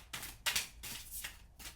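Tarot cards shuffled and drawn by hand, a few quick papery riffles and slides in bursts, close and quiet, with no talking.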